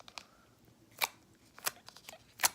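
A new slime squished by hand gives sharp, clicky pops, three distinct crisp snaps spaced about half a second apart with softer crackles between, close and fairly quiet.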